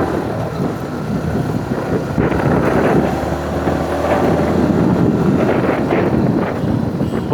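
Steady wind buffets the microphone while riding a motorbike on a hot day, a loud continuous rushing roar with no talk.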